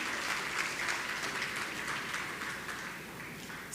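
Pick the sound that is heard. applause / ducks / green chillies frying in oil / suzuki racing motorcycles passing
applause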